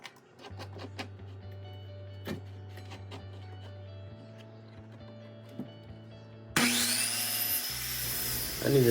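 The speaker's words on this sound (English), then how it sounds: "I decided to go over to the miter saw and use that to cut the boards down" A miter saw cuts wooden boards for a wardrobe, starting as a low hum with scattered knocks, then bursting into a loud, harsh, close whine of the blade through the wood.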